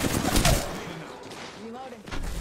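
Enemy gunfire crackles in a shooter video game, rapid bursts of shots mixed with game sounds under a player's excited talk.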